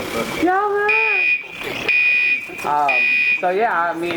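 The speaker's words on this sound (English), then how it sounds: "sometimes I just turn on the fire alarm just like that too" An electronic fire alarm sounds in steady, high-pitched beeps, alternating with someone talking between them.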